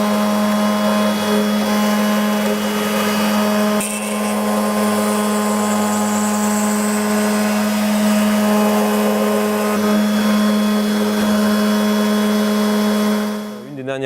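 A machine mills out the eye openings of wooden eyeglass frames, making a loud, steady whining drone with strong tonal hum that runs throughout and cuts off near the end.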